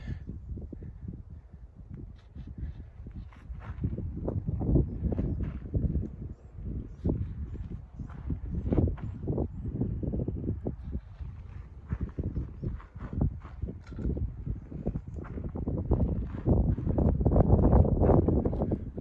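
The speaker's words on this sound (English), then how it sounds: "I know it's a little windy" Gusty wind on the Pacific Crest Trail buffets the microphone with low, rumbling bursts that rise and fall throughout, with no clear voices.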